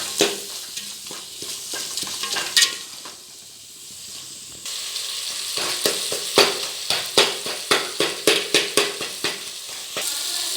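Mutton masala being stirred and sautéed in a pan for jackfruit biryani, with steady sizzling and frying hiss and a run of sharp, repeated spoon scrapes against the pan, close and loud, no talking.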